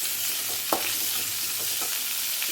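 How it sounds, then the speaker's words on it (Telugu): Raw mango pieces fry on a low flame for a sweet mango pickle, giving a steady close sizzle broken by a few soft stirring scrapes and clicks. "ఈ మామిడికాయలు వచ్చి ఇందులోనే కొంచెం సేపు వేగాలండి"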